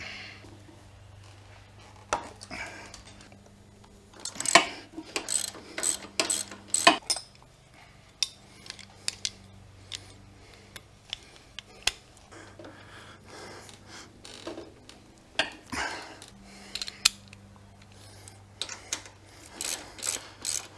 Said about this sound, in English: Loosen pinch bolts on lower fork bracket.